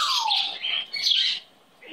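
A pet bird chirps in its cage, a few close, bright tweets and squeaky calls that rise and fall before trailing off.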